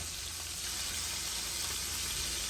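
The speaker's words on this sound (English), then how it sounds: "Because you want to sear it all, so you want to lock that juice in." A pot roast sears in a hot pan, giving off a steady, even sizzle of hissing fat at low-moderate volume with no pauses.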